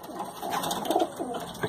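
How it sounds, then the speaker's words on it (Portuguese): Pigeons coo in a small loft, a soft close run of low throaty coos lasting under two seconds. "Aqui a pombada"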